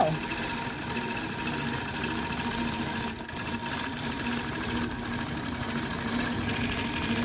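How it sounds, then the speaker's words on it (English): A Grace quilting robot sewing machine stitches with a steady, dense mechanical hum and rapid rhythmic whirring, loud and unbroken throughout. "And then it will turn on and it will sew."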